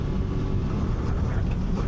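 A Honda Talon 1000R UTV with a Jackson Racing turbo runs at a steady, low droning idle as it warms up, a constant close engine rumble mixed with some wind noise and no speech.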